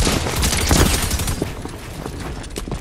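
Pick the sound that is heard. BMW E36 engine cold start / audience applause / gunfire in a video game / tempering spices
gunfire in a video game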